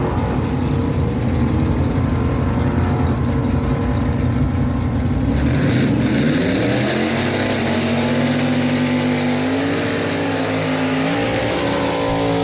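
A Plymouth Barracuda and a 1966 Pontiac GTO make a drag strip run, loud engines rumbling, then roaring and climbing steadily in pitch as they accelerate away, sustained without pause.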